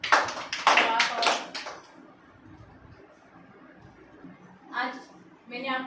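A small group claps in a short burst of several quick claps after a children's story activity, then goes quiet before a couple more brief clapping bursts close to the listener.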